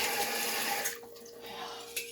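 Tap water runs while water is added to bread dough, a steady close hiss that cuts off partway and then gives way to quieter handling sounds.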